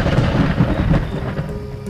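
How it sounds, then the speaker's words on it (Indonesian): Loud thunder rumbles through a storm, a deep rolling roar that fades slightly over its span, with rain faintly beneath. "suara petir menggelegar, menguncang langit dengan dahsyat"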